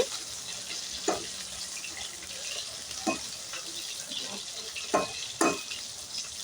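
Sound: soybean chunks frying and being stirred in a pan

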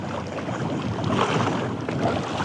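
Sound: strong wind

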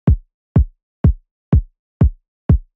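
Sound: trap-style punchy kick drum sample, bottom layer

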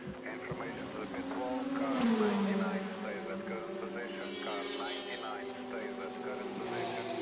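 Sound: Audi R18 e-tron race car passing

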